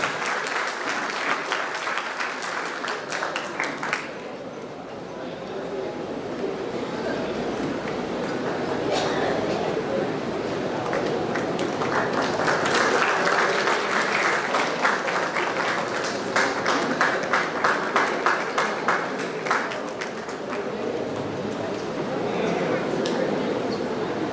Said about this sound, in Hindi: give round of applause